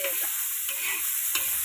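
Tomatoes fry in a little oil on a flat pan, giving a continuous close sizzle with soft stirring scrapes. A brief word is spoken.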